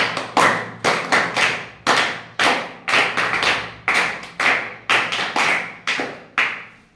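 Students clap in congratulation after exam results are read, several short bursts of hand claps starting and fading in sequence, loud and close with no talking.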